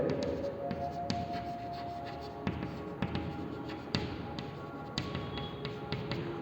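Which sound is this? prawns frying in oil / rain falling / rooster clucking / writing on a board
writing on a board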